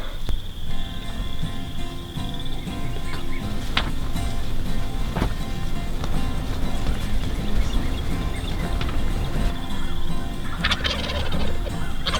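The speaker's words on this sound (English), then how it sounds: "we already got a bird gobbling" Wild turkeys gobble during a spring bowhunt in Illinois, with rattling calls repeating at a moderate distance over steady outdoor background noise, broken by a few sharp clicks and rustles nearby.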